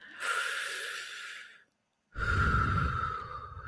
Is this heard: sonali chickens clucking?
no